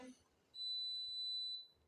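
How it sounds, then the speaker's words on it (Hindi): Daikin air conditioner unit emitting one long steady electronic beep after a remote cancel button is pressed, lasting about a second, clear and fairly close in a quiet room after a brief opening noise. "और ये देखें प्रेस करने के बाद एक लॉन्ग बीप आई"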